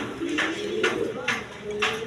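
A pair of large, high-quality satin pigeons coos steadily at close range, low murmuring calls repeating in a loose rhythm while a few sharper bursts break in, with someone talking over them throughout.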